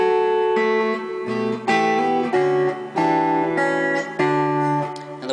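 Guitar plays the same section of the Christmas carol O Come All Ye Faithful with extra added notes woven into the chords, a series of ringing changes heard clearly with no talking.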